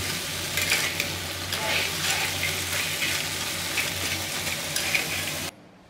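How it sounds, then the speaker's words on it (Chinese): Crab and oysters are stir-fried hard in a wok, giving a loud continuous sizzle with the scrape and clatter of a spatula stirring, no talking, ending abruptly. "爆炒"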